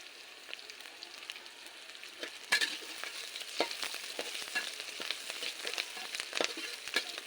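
Onions and green chilies frying in a pan over a clay stove, a continuous crackling sizzle broken by frequent sharp stirring scrapes that grow busier partway through.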